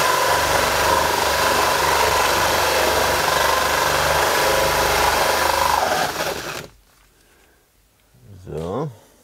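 A power tool drills a hole through OSB board during attic wiring work on a house under construction. Loud, continuous grinding whirs close up for about six seconds, then cuts off, and a brief voice follows.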